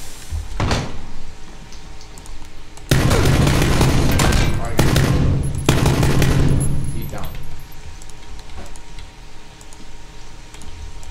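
Gunfire in the video game PUBG comes in loud bursts of rapid automatic fire and sharp single shots, with clustered volleys toward the middle of the clip. Faint background game noise and occasional voices sit beneath the shots.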